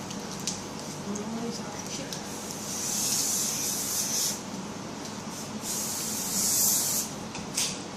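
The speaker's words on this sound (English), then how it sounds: "spray under the paper first, and then spray around there so the cake don't stick" Two bursts of cooking spray hiss up close into a cake tin, the second after a brief pause, over faint background handling sounds.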